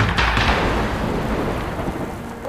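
Thunder from a lightning strike booms loudly at the start, then rolls and slowly fades, with rain hissing steadily underneath throughout.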